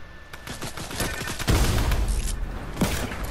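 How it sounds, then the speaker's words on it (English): Gunfire in a video game bursts out in a quick volley, with sharp shots clustered near the middle and one more after a short pause. "Oh, they're shooting."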